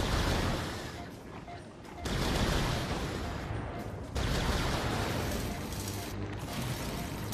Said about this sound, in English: We got missiles!